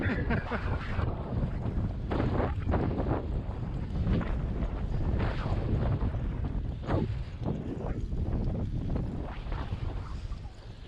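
Wind buffets a microphone during a long ride towing a modified trailer with a generator, a loud, gusty roar and rumble that surges and dips unevenly throughout.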